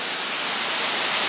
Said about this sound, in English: Okay, we made it to the waterfall.